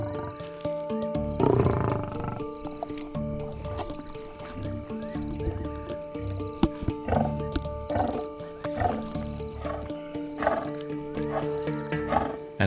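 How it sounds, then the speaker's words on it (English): A lion family feeding on a kill at night on the African savanna, with growls, snarls and wet tearing sounds coming in irregular bursts over steady insect-like background noise, close and fairly loud. "Dinner time in a lion family can be a noisy affair."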